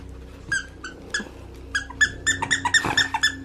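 A dog plays with a squeaky tiger toy, producing a rapid series of sharp, high squeaks in bursts that quicken and crowd together toward the end, close and clear over a quiet room.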